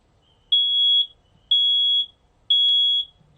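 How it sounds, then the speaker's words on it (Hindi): An alarm inside a train coach sounds three sharp, high-pitched electronic beeps, each about half a second long and spaced evenly a second apart. Each beep is loud and close, with only faint background noise between them. "ये अलार्म जो है वो अब भी बज रहा है"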